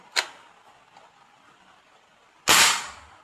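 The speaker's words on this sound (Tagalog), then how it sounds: "So talagang malakas po yung tunog ng putok pag walang bala." Two sharp shots from a butane-powered 8mm airsoft M4A1 with no pellet, the first a short crack, the second a louder pop with a hissing blast of gas trailing off.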